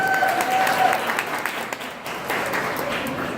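An audience at a women's anniversary celebration applauds the event organizers with steady, dense clapping from a roomful of people that holds throughout and tapers slightly near the end.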